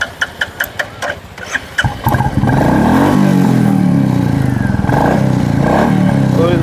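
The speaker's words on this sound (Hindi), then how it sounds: "पहले मेन एक्सीलेटर करो इसको।" Motorcycle engine fitted with a normal silencer, revved hard on the throttle: a few short blips, then a sustained loud rev that rises and holds, close by, with brief talk at the start.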